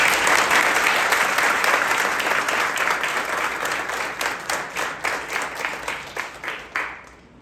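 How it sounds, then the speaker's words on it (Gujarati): A seminar audience applauds loudly for Ashok sir in a dense, sustained wash of clapping that gradually thins into scattered, uneven claps before dying out. "અશોક સર માટે એકવાર જોરદાર તાળી."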